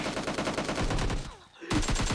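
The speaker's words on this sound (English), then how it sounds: "Machine gun." Rapid machine gun fire in a multiplayer video game, a dense stream of shots that cuts out briefly near the end before resuming, loud and close.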